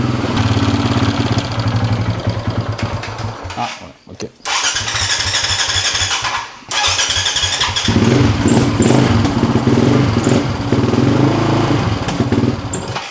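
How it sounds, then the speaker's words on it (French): A Yamaha dirt bike engine runs loud and close with its choke removed, sputtering and nearly dying twice before revving back up and running raggedly, with a brief voice speaking over it. "dès qu'on enlève le starter, il commence à pétarader, à rouler n'importe comment"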